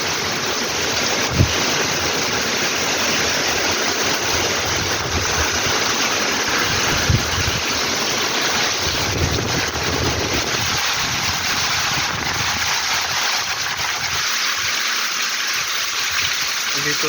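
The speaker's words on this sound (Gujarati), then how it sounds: "ફૂલ પવન સાથે વરસાદ છે" Heavy rain driven by strong wind makes a dense, unbroken roar that stays loud throughout, with a voice faintly audible underneath.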